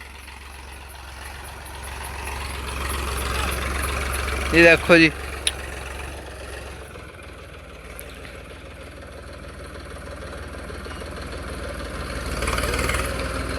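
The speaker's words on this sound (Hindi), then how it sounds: "जिस तरह से भाइयों ट्रैक्टर की रेस दे रहे हैं" A New Holland 3032 TX tractor fitted with a new silencer runs steadily, its low engine drone rising into a rev near the end, while someone talks over it close by.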